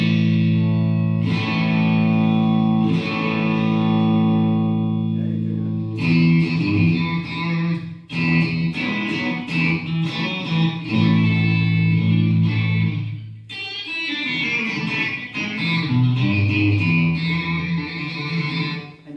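A Hopf Saturn 23 electric guitar with single-coil pickups plays loud high-gain distorted chords and riffs straight into the amp with no pedals, sustained ringing strums broken by short pauses, close and dense.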